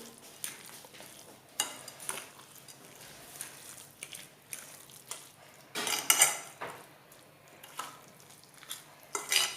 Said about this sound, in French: Je vais bien mélanger tous les ingrédients pour que ça soit homogène.